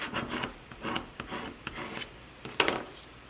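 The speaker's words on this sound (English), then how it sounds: "Take a squeegee or a credit card and you gently rub over" A squeegee or credit card rubbed gently over a mug decal laid on sticky tape, giving soft scraping strokes in an uneven rhythm, close and quiet, with a sharper stroke near the end.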